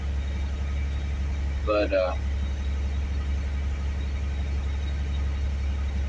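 A 1966 Chevy C60 truck with a points ignition idles steadily after a cold start, giving a low, constant rumble throughout, briefly under a single spoken word.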